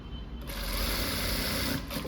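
A sewing machine stitches a blouse with a steady, close mechanical whir. The rapid needle chatter runs continuously for the short stretch, with no talking over it.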